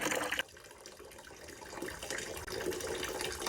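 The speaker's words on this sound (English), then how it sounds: "It's draining into this bucket" Water drains out of a Kenmore washing machine into a bucket, a close, steady gushing and splashing that holds throughout with a brief dip partway, and no talking.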